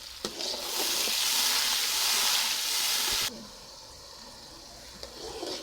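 Loud, steady sizzling of spices hitting hot oil for about three seconds, then it suddenly drops to a quieter hiss.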